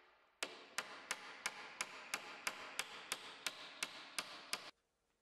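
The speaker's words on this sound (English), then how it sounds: "flattening the points of the nail to prevent the grain parting as the nails are driven into the timber" A hammer drives nails into timber for a stud wall, a run of about a dozen sharp, evenly spaced blows, close and clear, ending abruptly in silence.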